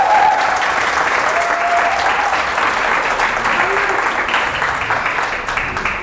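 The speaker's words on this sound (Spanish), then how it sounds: "denle la bienvenida al pastor Lenny con un gran aplauso" A church congregation applauds loudly and steadily to welcome a pastor, a dense, sustained wash of clapping filling the room for several seconds.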